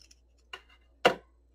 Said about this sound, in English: And then take my scissors and cut out